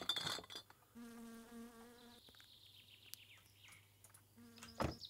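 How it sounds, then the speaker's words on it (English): Whining mosquito buzzes in the video game My Summer Car drift in and out over a low steady hum, thin and insistent, with a few louder knocks and clatters. "It's weird I can hear mosquitoes when I've already sprayed mozzie spray."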